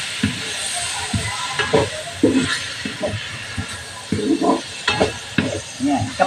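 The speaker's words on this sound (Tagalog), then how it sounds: "pwede nyo lang haluin ng ganyan" Bitter melon with shrimp and egg stirred in a sizzling pan, with a spatula scraping and knocking in uneven bursts over a constant frying hiss.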